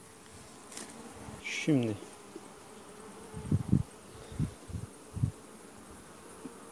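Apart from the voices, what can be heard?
honey bees buzzing around an open hive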